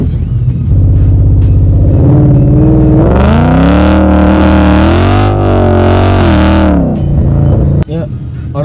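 A Ford Mustang 5.0 GT V8 with a Borla ATAK exhaust revs hard nearby, rising from a deep idle rumble into a loud sustained roar that swells and falls before dropping back, filling the whole stretch.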